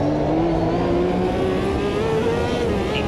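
Ferrari 333SP race car engine in the Automobilista 2 racing game, a loud steady high-revving drone with a rising pitch throughout, heard alone without talk.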